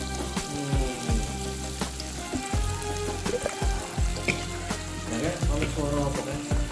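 Oil sizzles steadily in a hot wok while a utensil scrapes and clanks now and then, close and fairly loud, with no talking.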